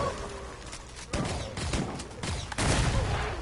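Rapid bursts of gunfire in the Killing Floor 2 shooter, dense overlapping shots that swell louder toward the end, close and continuous, with no speech over them.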